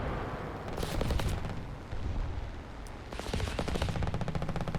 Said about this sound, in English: Being shot at by an American tank there. A 50 cal.